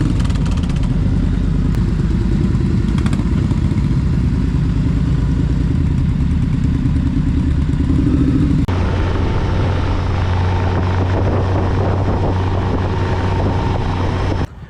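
A motorcycle riding on Australian roads, its engine a loud, steady drone that holds for the whole stretch and shifts to a lower, smoother tone partway through, with no talking.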